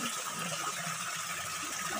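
Water flows at Ginlologayan falls beside a swimming pool in Northern Samar, a close, steady gushing and splashing rush that continues evenly throughout at low volume, with no voices.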